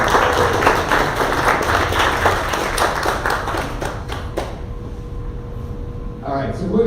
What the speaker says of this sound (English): let's give our first timers a big round of applause